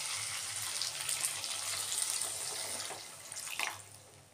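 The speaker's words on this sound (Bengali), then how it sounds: "এরপর আমি জলটা অ্যাড করে দেবো এর মধ্যে।" Water poured into a pan of fried potato and cauliflower for a Bengali fish curry, a steady running, splashing pour held at close range for several seconds, with no talking.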